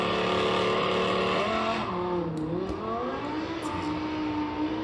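A Lamborghini Huracan engine revs loudly and close by, its pitch rising and falling through gear changes in one continuous snarling run.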